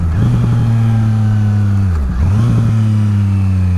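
A motorcycle engine drones at steady revs, dips abruptly on a downshift into second gear without rev matching, then picks back up to a steady hum; close and loud.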